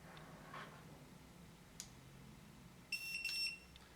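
An electronic keypad deadbolt gives a short pair of bright, high-pitched beeps near the end. Faint taps and a quiet room are heard around them.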